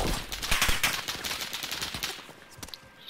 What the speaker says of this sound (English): Now we're getting shot at.